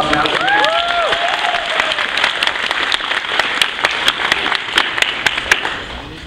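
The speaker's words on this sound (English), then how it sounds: "let's give him a proper round of applause now" Audience applause at a convention panel on Sonic behind-the-scenes, a steady wash of clapping from a crowd filling the room, with a few sharper individual claps and brief voices over it.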